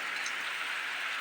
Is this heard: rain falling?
yes